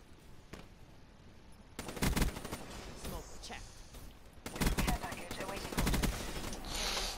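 Bursts of rapid gunfire from a video game gun, clustered in two loud volleys with thuds, with a quieter lead-in and talking over parts of it.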